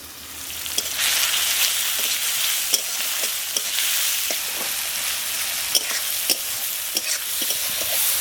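Chopped onion and tomato cooking in a pan with garlic paste and salt, a steady close hiss of frying with intermittent scraping and clicks from stirring, no one speaking.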